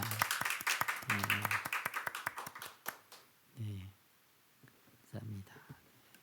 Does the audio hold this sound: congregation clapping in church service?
yes